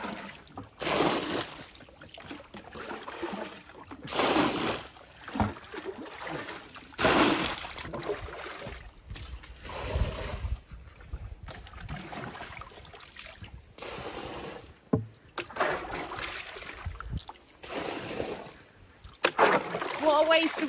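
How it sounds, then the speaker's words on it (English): Water splashing and sloshing on a muddy farm as a cattle water bathtub is emptied and scrubbed, with repeated surging splashes and trickles, while people talk nearby. "we've come up equipped to clean the bathtubs out and refill with water"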